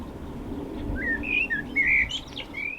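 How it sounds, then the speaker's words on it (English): A blackbird sings beside a coastal path between Exmouth and Budleigh Salterton, giving a few clear, fluting whistled phrases over soft outdoor background noise. "Accompanied by a blackbird."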